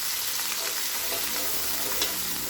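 Ginger garlic paste frying with onions in hot oil for keema biryani, a loud, continuous crackling sizzle with occasional scraping stirs, heard close and alone.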